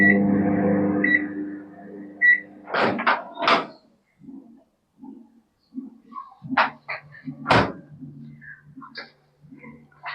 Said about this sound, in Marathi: आपण आता ही पावभाजी मायक्रोवेव्ह करणार आहोत 2 मिनिटांसाठी.